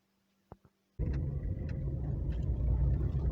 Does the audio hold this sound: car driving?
yes